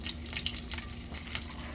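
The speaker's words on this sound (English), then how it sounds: "I take the most of the drippings, most of the grease, the oil, and I just pour it" Meat drippings, grease and oil pour from a pan into a bowl, a steady wet splashing and trickling with light sizzle underneath, close and continuous without talk.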